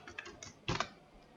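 A few quick keystrokes on a computer keyboard while entering a spreadsheet formula, soft scattered taps followed by a short louder cluster of clicks, close and quiet.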